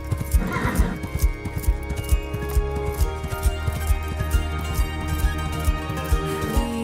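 A horse whinnies loudly near the start, then steady clip-clopping hooves carry on throughout, a staged sound effect in an audio drama.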